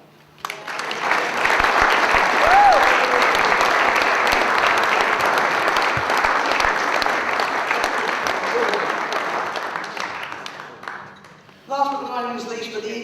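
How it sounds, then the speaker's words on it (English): A crowd at an anniversary dinner applauds steadily for about ten seconds, loud and sustained. The clapping then tapers off and a voice starts speaking. "I'd like you to give them a round of applause."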